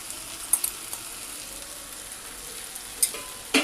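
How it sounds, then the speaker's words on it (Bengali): Soaked flattened rice (chira) being stirred in a frying pan, a soft continuous sizzle with a few sharp scrapes and clinks from the spoon, close and fairly quiet. "ভালো করে নাড়াচাড়া করে নেব"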